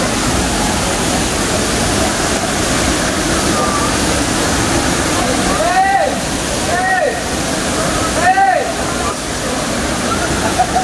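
Cambugahay Falls on Siquijor pours in a steady, loud broadband roar of falling water, with a few brief voices or calls rising over the rush midway through.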